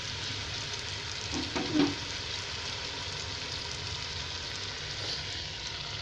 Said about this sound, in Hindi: ये मूंग मसूर की दाल इसमें गई